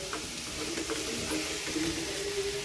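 Chopped tomatoes sizzle steadily in a hot tempering for Marathi tomato bhaji, a soft continuous frying hiss with faint stirring scrapes, close and moderately quiet, no voices.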